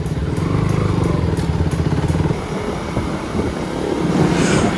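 A KTM motorcycle on a test ride gives a steady, close engine drone that runs unbroken throughout, with its pitch and loudness shifting slightly partway through.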